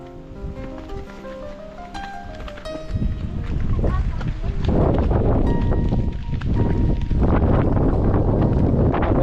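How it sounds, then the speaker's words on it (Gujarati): Steady, loud wind buffeting the microphone on a hillside near caves, rushing and roaring almost continuously, with a person talking partly beneath it near the start. "જોરદાર પવન આવી રહ્યો છે ભાઈ"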